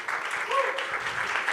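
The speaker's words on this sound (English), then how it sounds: "Another round of applause." Conference audience at a Devcon SEA breakout session applauding a speaker, a continuous wash of clapping with a voice briefly audible over it.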